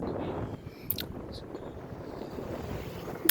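Steady rushing wind noise buffets the microphone over a low engine rumble, like riding along on a motorbike, with a couple of brief high chirps.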